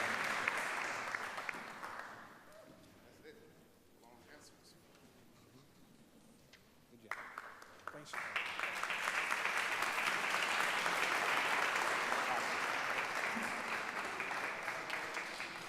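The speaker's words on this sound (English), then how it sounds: "just give them a round of applause" Audience applause at a district attorney town hall in Alameda County, California: a quieter murmuring stretch gives way to loud, sustained clapping from a sizable crowd that fills the second half.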